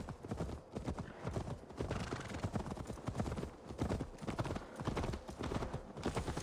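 Hooves clip-clop in a steady rhythm in Assassin's Creed Valhalla, like a horse walking at moderate distance, with a faint background bed underneath.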